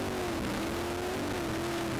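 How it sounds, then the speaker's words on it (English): A sprint car circles Limaland Motorsports Park on the high line during a USAC Buckeye Nationals feature, its engine a steady, loud drone held throughout with no break. "Let's jump in there with Levi. Take a lap around Limaland Motorsports Park"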